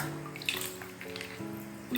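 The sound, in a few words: washing the face pack off with water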